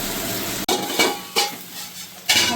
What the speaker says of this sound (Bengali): আলুটাকে আমি একটু ভেজে নিই পাঁচমিনিট।